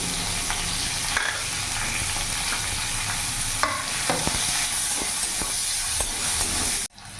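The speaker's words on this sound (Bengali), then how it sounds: "একটা পেঁয়াজ কুচি দিয়ে দিলাম" Steady, loud sizzling of chopped onion frying in oil in a wok, with spoon scrapes and stirring clatter throughout, ending in a sudden brief drop.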